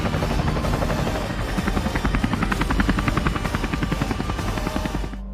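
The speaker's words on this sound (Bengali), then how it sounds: "ওর জন্য নাকি হেলিকপ্টার বানাচ্ছে।" Helicopter rotor thumping loudly and close, a fast steady chop layered over a constant engine whine, with no voices, cutting off abruptly at the end.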